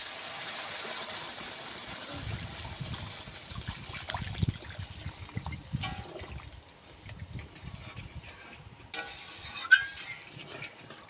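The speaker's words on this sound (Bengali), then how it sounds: "এবারে পরিমাণ মতন জল দিয়ে দেবো" Water trickling and splashing steadily into a pot of potatoes that have been sautéed for fish curry, a continuous close pour with a few brief clatters and splashes, no talk.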